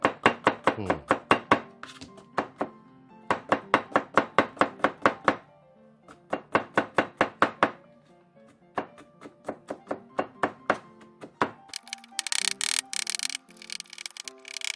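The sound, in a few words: chopping garlic with a knife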